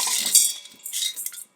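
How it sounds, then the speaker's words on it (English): Dried butter beans and peas poured into an Instant Pot, a quick close rattle and clatter of beans against the metal pot that fades to a few light clinks. "I'm going to go ahead and put them in my Instapot"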